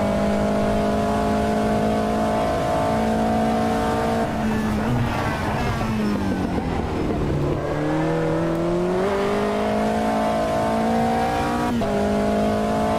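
Race car engine in the Automobilista racing game revving hard and climbing through the rev range, with a gear change and strained acceleration in a loud, continuous drone that stays close throughout.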